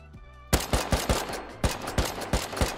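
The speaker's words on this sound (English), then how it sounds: "those AKs are coming in hard" Rapid AK rifle fire in the video game Rust, about ten sharp loud shots in an uneven burst with no talk.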